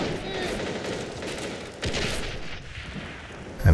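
SMG fire in the strategy game A World at War, a dense, loud clatter of overlapping shots and bursts with a commentator talking over it.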